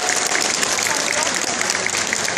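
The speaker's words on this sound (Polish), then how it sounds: "Poproszę o brawa dla Panu." A crowd applauds continuously at a dog-training show at the WOŚP charity finale in Jaworzno, dense clapping filling the whole moment at a steady, loud level.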